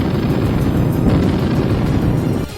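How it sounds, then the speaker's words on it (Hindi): Artillery guns of the Indian Army pound away during a field exercise, a dense, continuous rumble of booming blasts that stays loud throughout before easing slightly at the end. "भारतीय सेना ने नकली दुश्मन पर असली हमला किया और तोप से ताबड़तोड़ गोले बरसाए"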